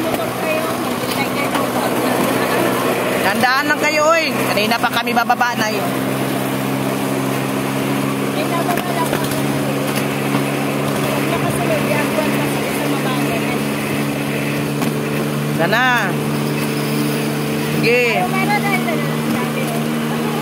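A motorboat engine drones steadily throughout, a continuous mid-pitched hum under ongoing conversation in Tagalog on the water near Barangay Guihay, Lopez, Quezon.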